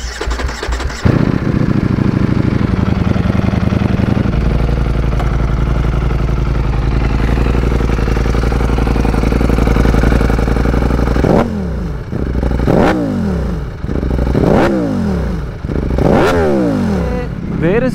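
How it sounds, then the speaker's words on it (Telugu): A Ducati Panigale V4S superbike starts and settles into a loud, steady idle, then gives a series of sharp throttle blips and revs that rise and fall near the end. "ఇదే డుకాటీ పానిగర్ V4S."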